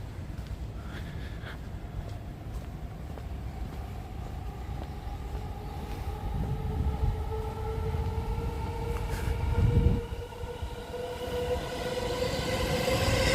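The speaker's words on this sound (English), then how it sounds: "it gets so noisy when the trains are passing" Train rolling past on tracks in southern Shinagawa, Tokyo: a continuous rumbling roar with rising and falling wheel squeals, growing louder, with a brief clank near the end as it passes close by.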